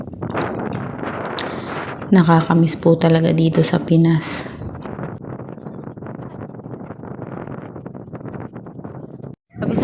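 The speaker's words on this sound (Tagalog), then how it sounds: "Ang lakas po ng hangin," Strong wind in the Philippines buffets the microphone with continuous roaring rumble throughout, while people talk over it in the middle and a brief dropout comes near the end.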